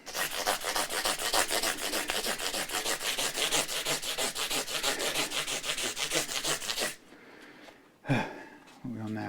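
Sanding a Les Paul Junior guitar part with 1000-grit sandpaper: fast, even back-and-forth rubbing strokes, close and steady, then stopping abruptly with brief handling sounds.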